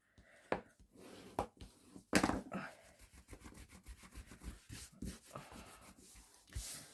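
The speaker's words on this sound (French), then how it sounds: "on appuie bien avec le plioir pour faire coller" A bone folder is pressed and rubbed firmly over glued paper on a scrapbook album page, making soft, close scraping and rubbing strokes in an irregular rhythm with a few sharper taps.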